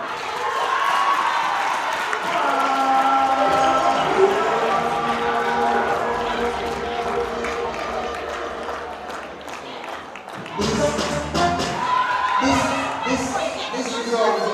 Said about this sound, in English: Let's cheer up and make some noise for Miss